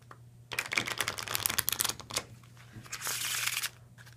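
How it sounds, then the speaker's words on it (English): A deck of playing cards is shuffled and cut during a card trick, giving a dense run of quick papery riffling clicks that stays close and fairly loud for about three seconds before trailing off. "and one more shuffle"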